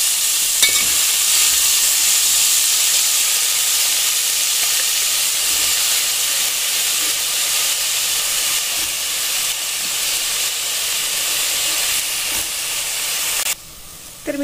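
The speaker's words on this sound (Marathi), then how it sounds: "इथे मी भाजी सुद्धा ऍड केलेली आहे." Green sorrel leaves fry in hot oil with cumin and garlic, giving a steady, close, loud sizzle and hiss that runs unbroken for about fourteen seconds before a brief stir near the end.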